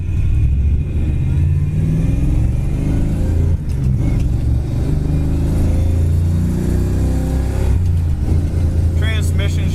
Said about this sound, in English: This car's got a fantastic dual exhaust system put on it. Very expensive, stainless steel,